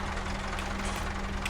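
A tractor engine in the farming video game Farming Simulator 19 runs with a steady, heavy low rumble and a faint knocking pulse, continuous and fairly close for the whole stretch.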